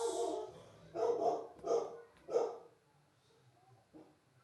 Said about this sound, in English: Dog's at it again.